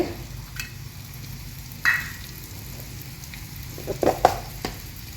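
Grated coconut hits a hot pan for a Kerala-style thoran and gives a soft, steady sizzle, broken by a few sharp clinks and scrapes of a spoon.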